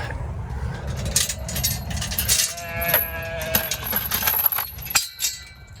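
Sheep bleat several times as they are let out through a gate, over a busy outdoor background with clinks and rustling, the calls fairly close and overlapping.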